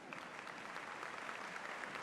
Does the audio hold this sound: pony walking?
no